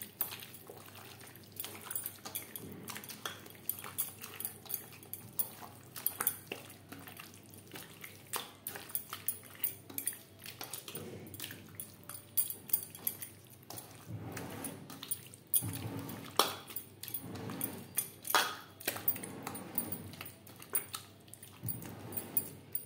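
Marinated chicken is worked by hand with spices in a bowl for aloo chicken, giving soft, intermittent wet squelches and slaps, quiet and close, with no talking.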